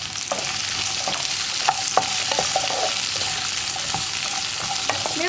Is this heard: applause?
no